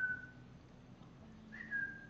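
A person whistles in a barn to call a large pet bird, two short high whistle notes at the start and near the end, faint, with a low hum of the barn underneath.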